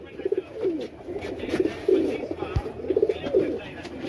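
Teddy pigeons coo in short rolling bursts at a sale, several calls spaced across the moment, with someone talking over them and a brief thump partway through.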